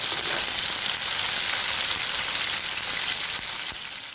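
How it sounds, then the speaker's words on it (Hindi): Cumin and coriander seeds frying in hot oil as a tempering for whole masoor dal, a steady, loud, close hiss of sizzling that holds without a break and eases slightly at the end. "इसमें मैं शामिल करूँगी जीरा और धनिया को लाइट ब्राउन होने दें"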